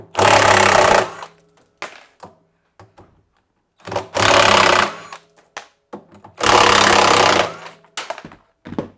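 Three loud bursts of an impact or power wrench with a 10mm socket removing bolts on a Samsung washing machine, each lasting about a second, separated by quiet gaps with small clicks and handling noises.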